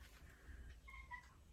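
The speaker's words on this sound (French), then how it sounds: "très bavard ce chat" A cat meows twice in quick succession, faint and fairly close, with a rising-then-falling tone over a low background hum and no talking.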